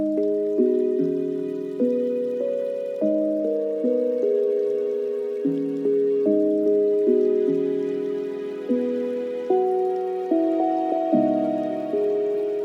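An orchestral string element in a lo-fi beat: sustained layered chords shifting in a regular repeating pattern, each phrase swelling and decaying, loud and clear with no voices.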